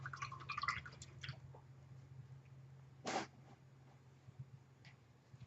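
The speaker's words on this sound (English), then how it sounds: "So I need to rinse out my brush." A paintbrush is swished and rinsed in a water cup, with faint sloshing and soft drips at first, then one brief splash midway, all quiet and close.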